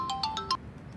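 A phone rings indoors, a series of four quick bright electronic tones in a fast rhythm, then a faint fifth echo trailing off, fairly quiet and alone.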